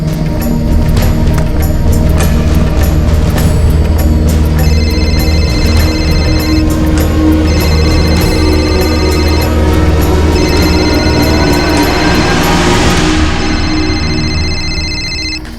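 A telephone rings loud and close on a call, a steady electronic ring pattern repeating continuously with no voices over it.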